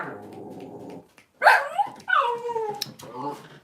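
A small dog gives a few sharp yips and rising whimpers near the microphone, with a person speaking softly before and around the sounds.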